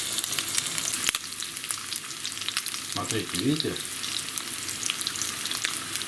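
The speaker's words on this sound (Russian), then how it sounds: "беру я ротана, обмакиваю в манку и ложу в сковородку" Rotan fish dipped in semolina sizzle and crackle steadily in a hot frying pan, a close, continuous spatter; a voice speaks briefly over it.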